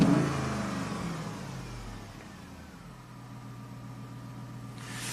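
A Ram with a Hemi V8 that runs rough with a misfire fault revs briefly at the start, then settles into a steady, fairly quiet idle drone.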